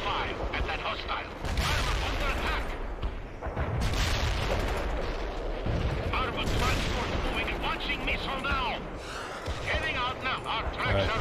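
Incoming artillery and gunfire in the World in Conflict real-time strategy game: repeated booms and rattling shots run throughout over a dense battle din, with radio voices and someone talking over it.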